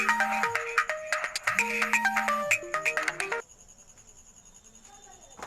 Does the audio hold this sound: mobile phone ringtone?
yes